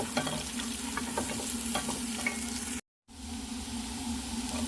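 Onion sautés in a pan for red chicken kabsa, a loud steady sizzle with stirring scrapes, briefly cut to silence before the frying resumes.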